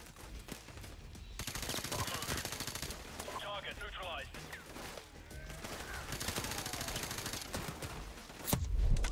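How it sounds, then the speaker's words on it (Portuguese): Rapid automatic gunfire crackles in bursts aboard a plane in flight in the video game Call of Duty: Modern Warfare Remastered, with a steady roar underneath and a heavy impact near the end. "trocar tiro dentro de um avião em movimento"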